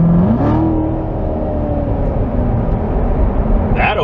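A 2016 Corvette Z06 with dual-mode performance exhaust downshifts and then accelerates hard, its engine note climbing in a loud, rising whine heard from inside the car.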